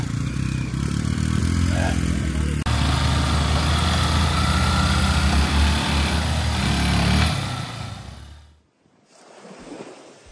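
A motorcycle carrying a rider and passenger on Saint Martin's Island drones with a loud, steady low engine rumble over wind buffeting, then drops away near the end, leaving quieter wind and surroundings.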